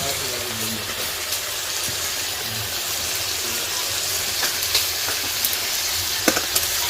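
Marinated chicken frying with onion and tomato in a pot over a wood-fired clay stove, a constant dense sizzle with scattered clicks and scrapes of a spoon throughout, no speech.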